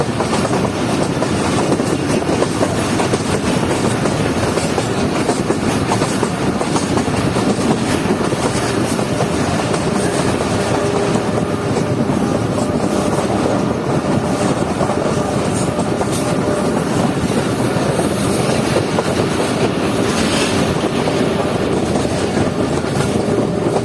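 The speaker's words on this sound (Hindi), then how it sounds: "हमारी 12 डाउन हज़ारा एक्सप्रेस इस वक्त पहुंच रही है मलकवाल जंक्शन रेलवे स्टेशन पर" The 12 Down Hazara Express arriving at Malakwal Junction station, a long unbroken rumble of railcars with steady clickety-clack over the rails, loud and close throughout with no talk.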